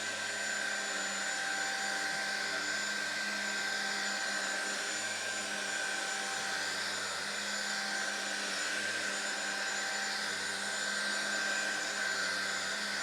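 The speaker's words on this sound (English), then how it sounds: "Let's fire up the vacuum then, and what I'll do is we'll put it on its standard mode for now" A Laresar Ultra 7 cordless vacuum cleaner runs steadily on its standard mode, a constant close whine with a high-pitched tonal hum, lasting throughout without pauses and with no talk.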